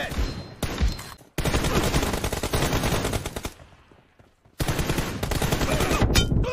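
Rapid automatic gunfire from a mobile shooter video game during a one-on-one team deathmatch fight, loud dense bursts with a brief lull in the middle before firing resumes.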